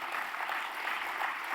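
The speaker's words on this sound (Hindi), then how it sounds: "एक बार जोरदार तालियां" An audience applauds at a Parmarth Seva Samiti function honouring Rajshree Birla, a steady hiss of many hands clapping together that runs evenly throughout, fairly faint and distant.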